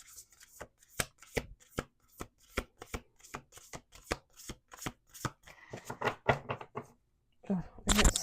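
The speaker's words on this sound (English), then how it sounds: "Two more shuffles." Playing cards being shuffled in a run of sharp riffling bursts, fairly close and steady, with a longer flurry of riffles near the end.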